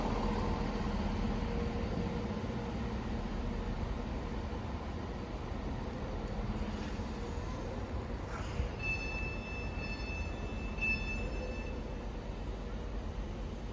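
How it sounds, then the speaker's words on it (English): A ScotRail service from Helensburgh Central to Edinburgh Waverley pulling out of Haymarket station, a steady rumbling roar of the moving train with a squeal of wheels rising toward the end, no talking. "Departing out now is the 1554 ScotRail service from Helensburgh Central to Edinburgh Waverley."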